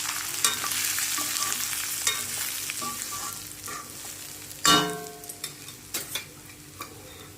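Crushed green chillies roast in a pan for dalia khichdi, giving a soft, steady sizzle with light stirring scrapes and one louder clatter partway through.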